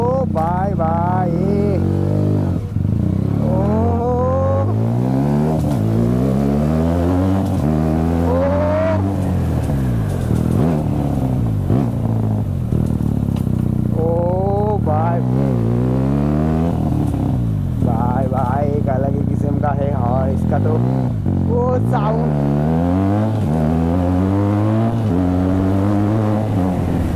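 Superbike with an SC Project exhaust revving repeatedly at close range, loud rising engine sweeps throttled up and down in quick bursts throughout.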